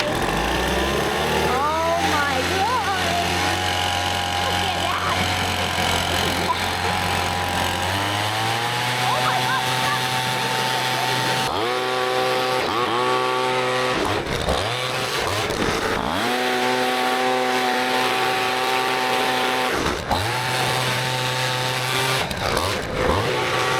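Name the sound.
blowing dust out of an HVAC blower fan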